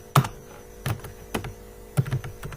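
Keys on a computer keyboard are struck a few times while C++ code is typed, giving separate close clicks with short pauses between them over a low electrical hum.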